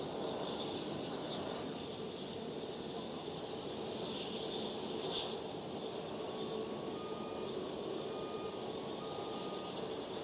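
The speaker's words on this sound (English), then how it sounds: "There is the TUI UK 737 MAX 8." A TUI UK Boeing 737 MAX 8 at Schiphol airport produces a steady, distant broadband jet roar, faint and continuous with a slight whine, holding level for about ten seconds.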